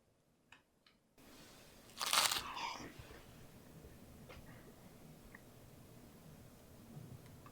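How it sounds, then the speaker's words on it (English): Crunch of a Cheetos-coated cheese corn dog fresh out of the frying grease, one loud crisp burst in the middle followed by a few softer crackles over low background noise. "it sounds crunchy when you get it out the grease"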